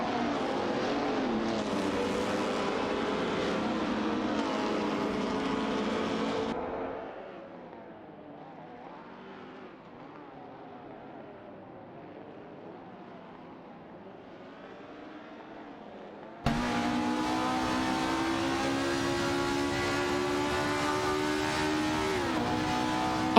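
Cars in a video game race drone loudly, then the sound drops to a quiet muffled hum for several seconds before the engine roar snaps back in at full volume, climbing in pitch as the car accelerates.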